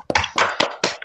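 A short burst of hand clapping from a small online lecture audience, a few quick sharp claps in an irregular run, close and fairly loud, with no talking over it.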